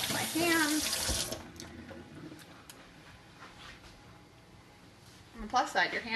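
Water runs from a tap as hands are rinsed in a sink, a steady splashing rush that fades to a softer trickle before a louder burst of splashing at the end, with a voice heard briefly at the start.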